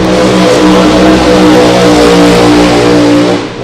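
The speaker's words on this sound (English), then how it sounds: "I love them burnouts" Funny car at a drag race doing a burnout, a loud, harsh engine roar held at high revs with a brief swell before easing off at the end, close and continuous.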